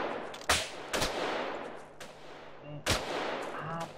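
Several sharp gunshots from a GTA game mod, spaced irregularly with loud cracks and fading tails, close and prominent with little else around them.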